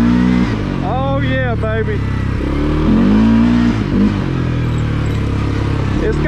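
A CFMOTO CForce 400 ATV engine pulls hard in high gear, a steady mid-pitched drone with a rising whine, loud and close under an excited voice.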